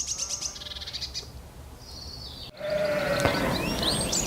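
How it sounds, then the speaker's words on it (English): Birds chirp and trill on open hillside near Snaefell on the Isle of Man, with repeated high calls near and far, a sheep bleating among them and soft wind in the background. "we are accompanied by the sound of the sheep bleating as well as the birds"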